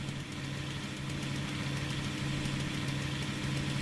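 In the video game Jalopy, an old car's engine idles steadily, a continuous mid-pitched hum with a faint knocking vibration, heard alone without talk.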